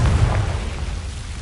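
Confringo blasting spell from the video game Hogwarts Legacy, a single low booming burst at the start that quickly decays into a rumbling tail.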